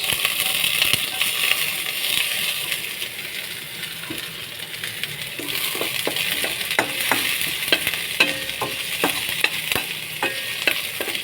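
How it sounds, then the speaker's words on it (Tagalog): Onions and blackened garlic frying in a pan for ostrich sinigang, a continuous hiss of sizzling oil with a spoon scraping and clacking against the pan in irregular strokes as it stirs, close and fairly loud. "haluin lang maigi parang nag-ahalo ng simento"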